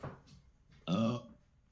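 A smart speaker plays a short soda burp sound effect: one low, guttural eructation lasting about a third of a second, close and clear, between faint quiet moments.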